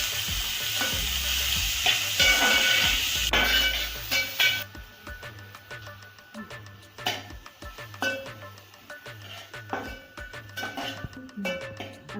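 Chopped onion and tomato sauté in a pan for a street-style Schezwan frankie filling. A loud, dense sizzle gives way to rhythmic scraping stirs over a softer, continuous fry.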